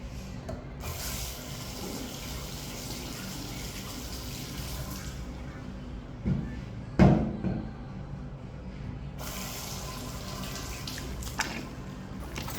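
Tap water runs in a steady hiss from a faucet where very hot water comes out in the heat of Kuwait, with a brief louder splash around the middle.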